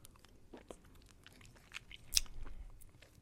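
Crunchy biting and chewing of a Juicy Drop Pop hard candy, close and quiet, with scattered wet clicks and a louder crunch near the end, no talking.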